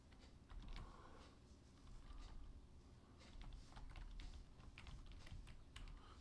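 Keys clatter on a computer keyboard in quick, uneven bursts, close and fairly quiet, with no voices.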